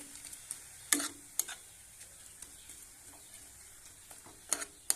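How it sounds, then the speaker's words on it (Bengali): Boiled carrot and jaggery being stirred in a pan, a quiet low sizzle with a few scattered clicks and scrapes of a utensil, faint and close, no voices. "গুড়টা আর গাজরটা কিছুটা সময় কিন্তু একটু নাড়াচাড়া করে নেব"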